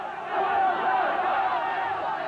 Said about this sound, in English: the enormous crowds were out in the streets again, blocking their way